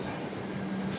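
Steady low rumble and hum of a MEMU express train at a platform in Chennai Egmore station, a close, continuous drone with a sustained tonal whine and no talk over it.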